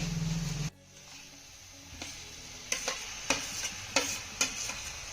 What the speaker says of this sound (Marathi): आता यामध्ये आपल्याला मॅश केलेली वांगी घालायची आहे